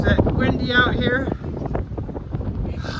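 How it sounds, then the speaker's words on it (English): Strong wind blowing outdoors buffets the microphone in a steady, loud roar, while a person talks over it near the mic. "is it windy out here?"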